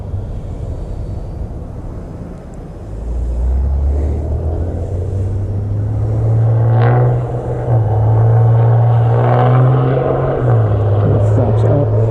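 A C-130 turboprop flying touch-and-go circuits drones steadily, its low engine hum rising in pitch and strength partway through as power comes up, with faint cockpit voices under the continuous roar.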